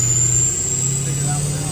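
Rough idle from a cheap budget-built diesel engine, a steady low rumble with a faint high whine, continuous and fairly loud throughout, with a voice talking over it.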